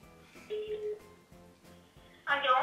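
Telephone dialing tones: a few short electronic beeps over a faint background hum, ending in a louder burst of tones.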